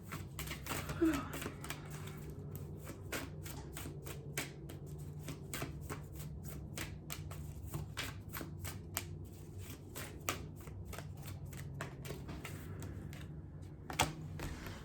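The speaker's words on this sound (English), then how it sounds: "One more shuffle, if nothing falls." A deck of tarot cards is shuffled by hand in a quiet room, a long run of crisp, rapid riffling clicks close up, with a faint low hum underneath.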